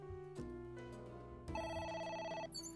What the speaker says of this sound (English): Oh, not the fucking phone again.